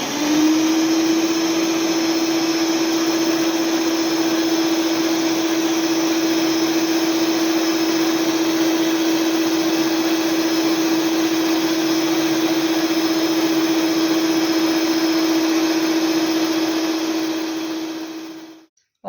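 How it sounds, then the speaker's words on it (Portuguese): An electric stand mixer hums loudly and steadily as it beats sponge cake batter while flour is added, a constant motor drone lasting almost twenty seconds before switching off. "agora eu vou ligar a batedeira e vou acrescentando a farinha aos poucos"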